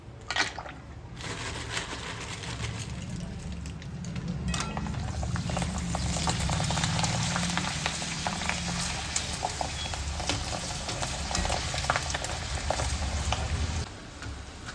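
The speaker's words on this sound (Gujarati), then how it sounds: "હવે આપણું તેલ થઈ ગયું છે. હવે આપણે ભૂંગળા તળી લઈશું." A soft, steady bubbling sizzle of bhungla, a crisp tube-shaped snack, deep-frying in hot oil in a kadai, close and continuous, swelling a little louder midway before easing near the end.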